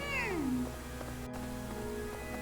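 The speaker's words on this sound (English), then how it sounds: "Cats." A cat meows on the monastery grounds in the video game Fire Emblem: Three Houses, one clear, close, falling meow followed by faint ambient game sound.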